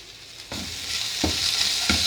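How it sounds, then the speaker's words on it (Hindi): Chicken frying in a pan with chili sauce gives a steady close sizzle, with three soft stirring scrapes spaced through the brief stretch and no talking. "जब ये हल्का सा फ्राई हो जाएगा"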